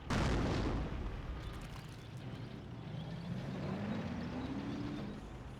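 An anti-tank gun blowing up in Company of Heroes, a loud low boom at the start that settles into a sustained rumbling battle din with a faint rising engine-like drone.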